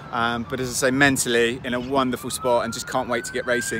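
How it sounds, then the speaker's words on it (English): Emergency vehicle sirens wail faintly in the distance on Hawaii's Big Island while someone speaks close up over them. "sorry for the sirens"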